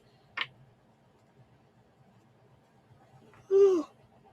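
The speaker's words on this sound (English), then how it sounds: "Oh my god, that made me yawn." A single drawn-out yawn with a rising, breathy vocal tone near the end, following a brief faint sniff in an otherwise quiet room.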